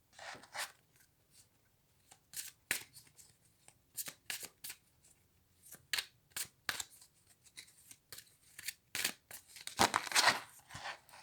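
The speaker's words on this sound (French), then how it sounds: "couper et je vais sélectionner mes trois cartes" Tarot cards are shuffled and cut by hand in a quiet room, a close run of crisp riffling bursts and soft slaps with brief pauses between handfuls.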